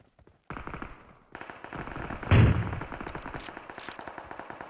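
Video game gunfire during a battle on a hill, with a sniper rifle in play: rapid bursts of close, sharp shots in a fast rattling rhythm and one heavier, louder blast in the middle, with no talk.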